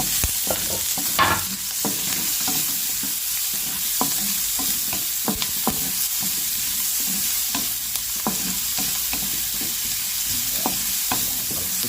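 Onion and garlic sauté with milkfish in a pan, a continuous close sizzle with frequent clicking spatula strokes spread across the stretch and no talking.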